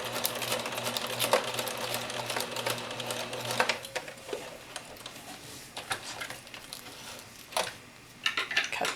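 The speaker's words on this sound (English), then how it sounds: "I will finish the edge with just a few back stitches" A sewing machine running a zigzag stitch along the edge of thin, delicate material, finishing with a few back stitches; a steady mechanical whir with fine ticking for several seconds, then it stops and only scattered handling clicks remain.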